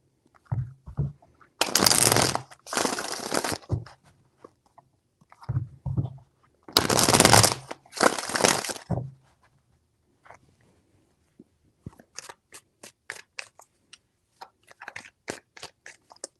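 Tarot cards being shuffled in a reading, several quick riffling bursts of crisp card noise up close, separated by short pauses, followed by light scattered taps and flicks as the cards are handled.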